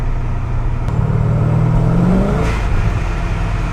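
A supercharged Pontiac GTO accelerates gently in fourth gear, its engine droning loud and steady with a rising whine and rumble throughout, no talk over it.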